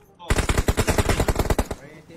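Rapid automatic gunfire in the mobile battle-royale game PUBG Mobile, a loud burst of about fifteen closely spaced shots lasting around a second and a half, with no talk over it.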